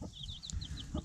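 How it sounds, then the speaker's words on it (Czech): A mother hen with her chicks clucks softly in a farmyard, faint high peeping calls repeating over a low background, with a few brief clucks near the start and end. "Budu pouštět vlastně kvočnu s kuřátkama na dvůr"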